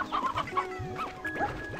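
Chickens cluck in the video game Slime Rancher 2, a close, busy run of short overlapping clucks and chirps in quick irregular succession.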